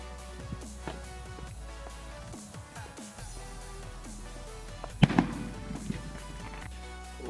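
Firework rockets burst outdoors with scattered pops and crackles over a steady background rumble. One louder crackling explosion stands out partway through.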